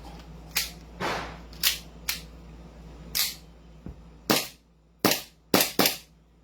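A gas-powered MK2 airsoft pistol, slotted model, fires about ten sharp cracking shots, close and loud. The shots come at irregular intervals, some in quick pairs, over a quiet background.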